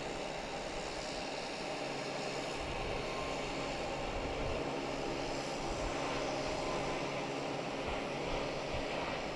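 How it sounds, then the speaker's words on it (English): A JetBlue Airbus A220 takes off from Logan Airport, a steady broad engine roar holding at moderate distance throughout with no pauses, and no talk over it. "Unlike this JetBlue taking off, heading to JFK."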